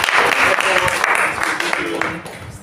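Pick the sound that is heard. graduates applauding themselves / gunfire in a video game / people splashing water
graduates applauding themselves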